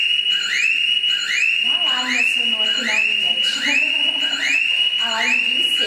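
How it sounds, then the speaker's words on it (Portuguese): Indoor fire alarm sounding in a loud repeating pattern of rising whooping sweeps, roughly one every second, with people talking underneath. "alarme de incêndio"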